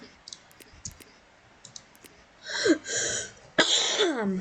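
Faint clicks and small noises, then a couple of raspy coughs close by, the last one sharp and followed by a rough throaty exhale.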